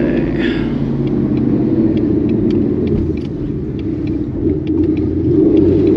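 An S550 Mustang GT on E85 with loud catless headers cruises along a back road through an industrial area, its engine a deep, steady, loud rumble from inside the car with a faint ticking on top.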